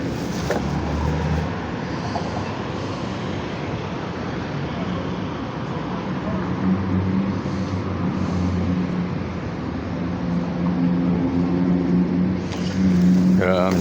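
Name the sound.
Phoenix Valley Metro light rail train arriving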